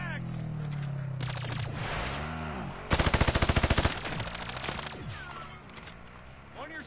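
Bursts of rapid automatic gunfire rattle in a zombies-mode shooter game, including one loud sustained machine-gun spray, with a voice talking around the shots.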